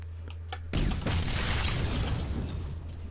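A grenade blast in the PUBG battle royale game hits suddenly and loud, then leaves a long, noisy rumbling tail with debris. Fainter clicks and thuds come just before it.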